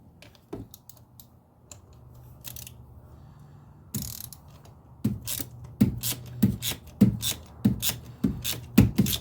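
A hand ratchet tightens a spark plug during routine maintenance on a daily-driver car, with a run of quick, close clicking strokes that grows louder and denser toward the end after a quieter start.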